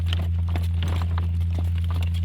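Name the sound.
horse hooves clip-clopping while walking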